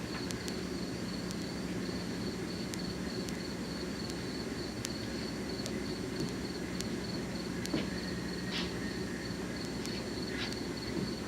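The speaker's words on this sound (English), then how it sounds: "Those most monotonous fucking crickets I ever heard in my life." Crickets chirp steadily in a quiet outdoor night, a faint continuous trill with occasional soft clicks in the background.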